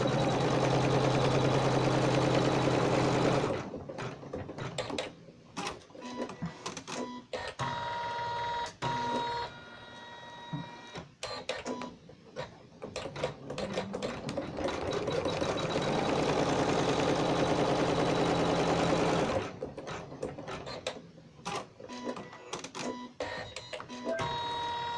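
An embroidery machine stitches a line on a coaster held in the hoop, giving a loud, fast mechanical whirring that runs in long bursts with short pauses between them, close by.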